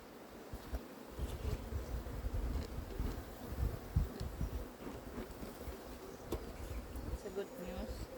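Honeybees buzz around an opened beehive while frames are checked for a laying queen's eggs, a steady, fairly faint droning swarm with occasional close fly-bys and some wind noise.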